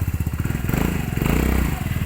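Rusi RFI 175 motorcycle with an upgraded exhaust, engine close and loud with a rapid pulsing exhaust note that rises briefly as it revs, no talking.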